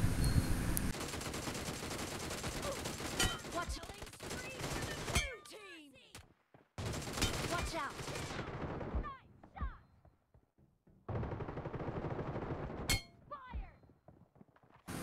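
Bursts of DP-28 machine gun fire in a video game match, loud rapid volleys broken by short pauses, with game effects and a voice over parts of it.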